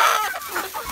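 Free-range heritage hens clucking close by while being fed, a short burst of overlapping cackles and clucks lasting under a second.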